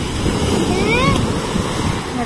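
Ocean waves wash steadily against the shore of a Philippine island, a continuous loud roar of surf mixed with wind buffeting the microphone.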